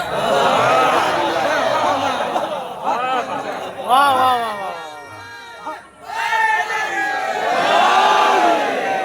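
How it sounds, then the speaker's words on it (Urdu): A large crowd of men at a Shia religious gathering chants a slogan together in loud, rising and falling waves, with brief lulls between bursts of collective shouting. "یہ 55 اور 65 سال کے لوگوں نے نعرہ لگایا"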